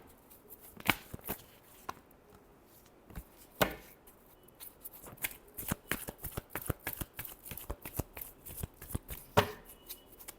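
Tarot cards shuffled by hand in a repeated stream of crisp riffles and soft slaps, close and quiet, with irregular bursts of flicking throughout.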